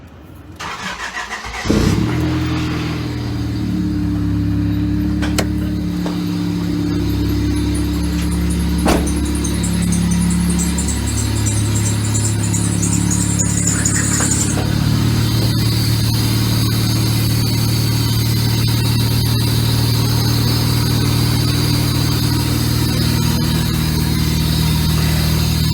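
A car engine cranks and catches after a short start, then settles into a steady, fairly loud idle that runs for over twenty seconds, with a slight shift in pitch midway.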